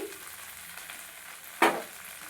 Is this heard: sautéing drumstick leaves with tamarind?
yes